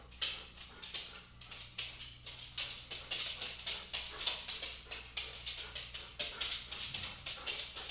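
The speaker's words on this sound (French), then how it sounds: "excusez-moi si vous entendez mon chien qui marche" A dog moves around a room indoors, producing faint rapid tapping and shuffling in an even rhythm, quiet and somewhat distant with soft whimper-like tones.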